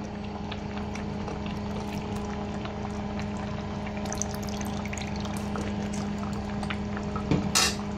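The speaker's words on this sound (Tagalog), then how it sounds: "Maglalagay ako ng suka para balanse yung lasa." Vinegar pours into a simmering pot of ginataang labong, a low bubbling and liquid gurgle with a few light clinks of a spoon against the pot, ending in a brief sharper splash.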